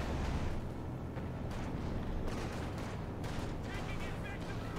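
Flak anti-aircraft guns fire in the wartime strategy game Company of Heroes 2, a dense, noisy run of rapid booming shots and bursts, fairly loud and continuous, mixed with other battle noise.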